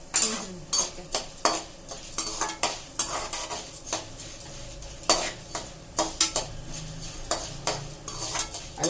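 Seeds dry-roasting over a low flame for curry leaf spice powder, stirred steadily with a metal spoon that clinks and scrapes against the pan in a quick, irregular rhythm, close and moderately loud.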